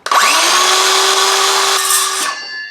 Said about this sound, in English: Handy dandy DeWalt saw.